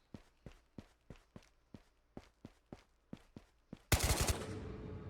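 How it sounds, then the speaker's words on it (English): Footsteps from a Ghosts of Tabor video game tread at a steady pace, about a dozen even thuds, before a burst of close, loud gunfire erupts and rings out at the end. "I hear somebody shooting out front of the labs, and then as I get it closer, I hear walking"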